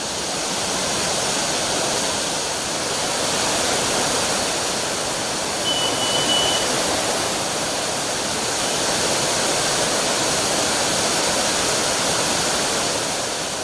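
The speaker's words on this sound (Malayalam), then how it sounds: "രണ്ട് കുന്നിൻ ചെരുവുകളെ വേർതിരിക്കും വിധമാണ് പാറയിടുക്കിലൂടെ വെള്ളമൊഴുകുന്നത്" Attukad waterfall rushes through a rocky gorge between two hillsides, a steady, loud, unbroken roar of water with no other sounds standing out.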